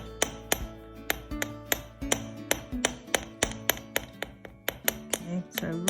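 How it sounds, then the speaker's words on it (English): Gentle, evenly spaced hammer taps on metal wire while forming French hook ear wires, about a dozen sharp close metallic strikes with short ringing tails and no talking. "I really don't want a lot of hammering on this, just gentle."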